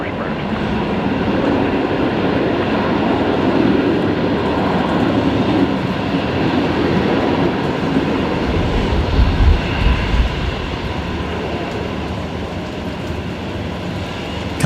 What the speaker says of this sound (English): we're watching the Emirates, and let's get some reverse thrust action here